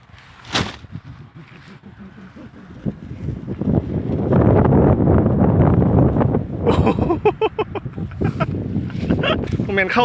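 Wind gusts buffet the microphone while a 2-meter Thai chula kite with a plastic bag attached is flown outdoors. A rough, broadband rush swells and stays loud through most of the stretch, with a voice talking over it.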